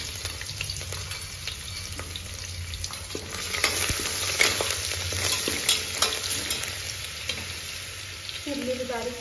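Bay leaf with coriander and garlic paste fries in a hot pan, a constant crackling sizzle with scattered pops and stirring scrapes, close and moderately loud throughout.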